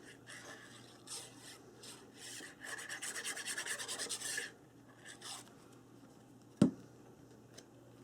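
Paper on a toilet paper tube mini album being burnished by hand, close soft rubbing and rasping strokes in short bursts and one longer run, ending with a single sharp tap.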